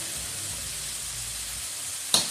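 Butter sizzles steadily in a pan for a creamy sauce to go with steelhead trout, a constant close hiss with a brief louder crackle near the end and no talking.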